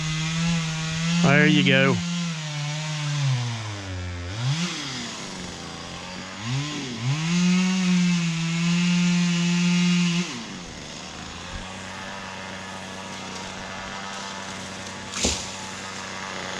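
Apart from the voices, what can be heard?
ported Husqvarna chainsaw revving and cutting small trees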